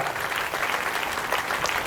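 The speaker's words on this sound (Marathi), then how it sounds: "आपण टाळ्या वाजवून त्यांचं अभिनंदन करूया" Steady applause from an audience at a Marathi religious discourse fills the whole stretch as a dense, even clapping with no pauses.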